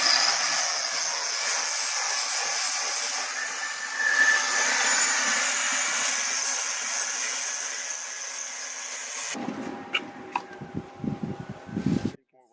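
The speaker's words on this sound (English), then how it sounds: "This point is cleaning up the welds, grinding them, making sure everything is nice and smooth." Angle grinder smoothing metal welds: a high, steady whine for about nine seconds, then rougher, intermittent grinding bursts before it stops.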